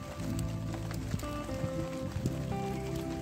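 Steady rain patters down continuously, with a low rumbling hum and some faint tonal sounds underneath.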